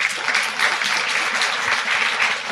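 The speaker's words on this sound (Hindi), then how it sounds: "जोरदार प्रभु के लिए ताली बजाएंगे" A church congregation applauds during a Sunday worship service, a dense, steady wash of many hands clapping together that holds at an even level throughout without a break.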